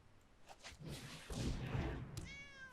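A cat meow plays as a card effect for Scythe Cat in a Magic: The Gathering video game, one drawn-out meow with a brief synthetic chime trailing at the end, clear and close.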